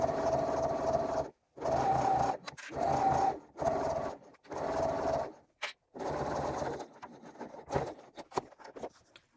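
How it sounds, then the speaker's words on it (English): A sewing machine topstitches along the edge of a crossbody bag at 3/8 inch, with backstitching at each end. It runs in four or five close bursts separated by short pauses, followed by quieter handling noises. "Sewing straight down this edge, back stitching at the beginning and at the end"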